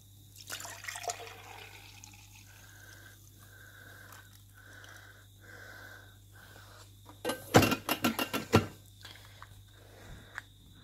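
Feel Good protein water drink is poured into a blender container, a soft trickle at first, then a louder burst of splashing pouring that tapers off near the end.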